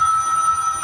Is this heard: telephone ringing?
yes